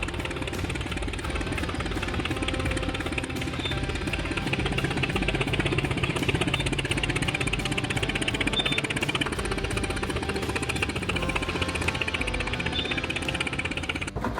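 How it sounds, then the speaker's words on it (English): A 1920s Field Marshal Fowler tractor engine runs steadily, making a sharp, rhythmic, knocking pound that stays close and constant with no talk over it. "Can you hear the sharp, rhythmic pounding of that Field Marshal Fowler?"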